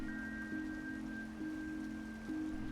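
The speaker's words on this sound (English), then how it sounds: "This rain came out of nowhere." Steady rain hiss inside the video game Trails Through Daybreak, continuous and even, under sustained tonal music notes, no voices.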